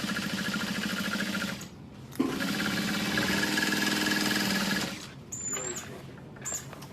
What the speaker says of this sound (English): So we're gonna sew that using a small stitch length.